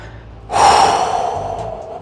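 A single long breath out during a slow mobility exercise, starting abruptly about halfway in and tailing off gradually, close and fairly loud, with no talking over it.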